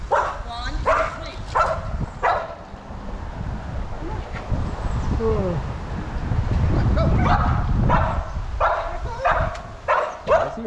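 A dog whimpers and gives short yips and barks near the water at a fishing spot, the sounds repeating in brief bursts at close range, mixed with wind noise and people talking.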